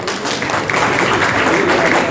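An audience at a political gathering applauds steadily, a dense wash of clapping that builds and holds for a couple of seconds.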